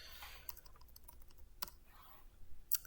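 A computer keyboard clicks softly as someone types a domain name, a run of quiet, irregular keystrokes close by.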